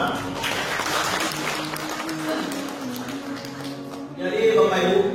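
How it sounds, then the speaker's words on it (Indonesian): Clapping from an audience at a business talk, steady and moderately loud, with talk and some tonal background under it, rising again near the end. "Tepuk tangan untuk Bapak Ibu semua."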